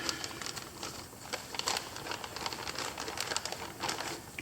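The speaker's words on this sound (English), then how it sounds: "I'm just going to basically slide it right into the Ziploc bag" An oiled ATV air filter from a Suzuki slides into a plastic Ziploc bag, producing close, uneven crinkling and rustling crackles throughout with no talk.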